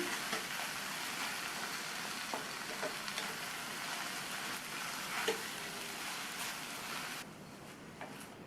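Stem amaranth greens sauté in hot oil, giving a steady, even sizzle with faint stirring scrapes; the frying hiss runs throughout at close range and drops sharply near the end.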